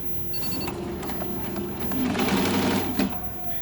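An embroidery machine stitching a logo hums and chatters at a steady fast rhythm, close and clear, with a few brief clicks near the end.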